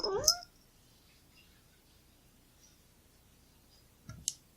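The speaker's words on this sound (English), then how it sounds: "There's my cat. He's complaining because he needs to be fed." A hungry house cat meows to be fed, one short meow at the start and a brief second call near the end, fairly close, with quiet clicking in between.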